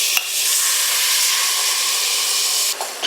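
Canned chopped tomatoes going into a pan of sizzling toasted spices for Moroccan harira soup, a loud, even sizzle and hiss that holds steady, framed by brief knocks near the start and end, with no talking.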